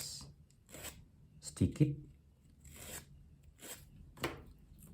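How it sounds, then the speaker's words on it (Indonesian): Sandpaper rasping on a small part of a rubber-powered model airplane, a few short scratchy strokes, quiet and close, between bits of talk. "Ini bisa kita amplas"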